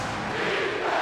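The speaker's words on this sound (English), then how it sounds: "Crowd on its feet." A basketball arena crowd roars and cheers during an NBA game, a dense, steady wall of noise for about a second with no clear talk on top.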